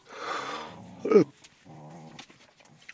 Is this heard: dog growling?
yes